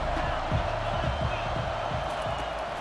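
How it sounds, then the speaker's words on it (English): A large stadium crowd in the video game EA Sports College Football 25 roars in a steady, loud wash of noise, with a few thumps and a commentator's voice faintly underneath. "listen to this crowd roar"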